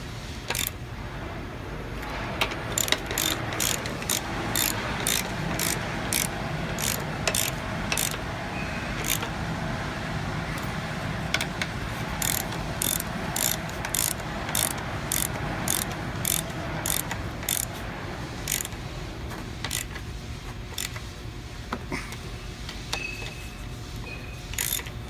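Repeated ratchet clicks from tightening the rear bearing on an AMCO ditcher, coming in steady rapid bursts of sharp metallic ticks with short pauses, fairly close and moderately quiet over a low background hum.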